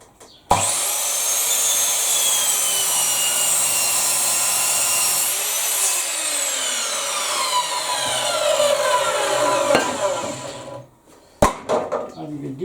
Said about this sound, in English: Now I'll let you see a wee bit of the bandsaw I'm working.